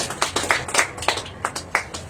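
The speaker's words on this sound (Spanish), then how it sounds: "Dale un fuerte aplauso al Señor," A church congregation claps in a loose, fairly sparse rhythm, with distinct individual claps spaced roughly a quarter second apart at moderate volume.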